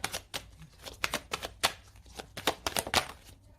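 Tarot cards are handled and laid down in a quick run of close, crisp clicks and flicks at an irregular rhythm, with no one talking.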